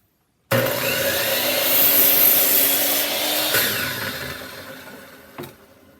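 A power saw bites into wood for an entryway hanger, starting abruptly with a loud whirring cut that holds steady, then winds down and fades out, ending with a small knock.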